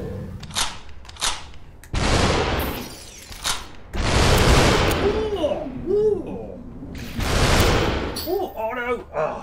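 Gunfire in the SUPERHOT VR game on Oculus Quest, several loud broadband bursts and booms spread across the stretch, mixed with a player's excited exclamations.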